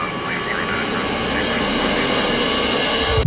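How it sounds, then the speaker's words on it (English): A Gulfstream private jet taking off, its engines a loud, steady roar that builds slightly and holds for several seconds without a break. "The private jet would eventually take off at 8:23 p.m."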